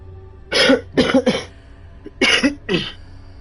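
A person sick with a cold coughs in several harsh, close bursts, two quick coughs then a pair, another pause and two more, loud with quiet gaps between.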